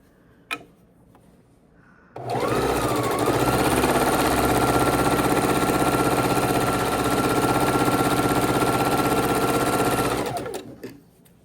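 Sewing machine stitching quilt pieces together, starting after a brief click and running as a steady, close, continuous mechanical whir for about eight seconds before stopping.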